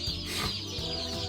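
Newly delivered meat chickens, a box of about a hundred chicks on a farm, cheep continuously in a dense overlapping chorus, close by and steady, with no talking.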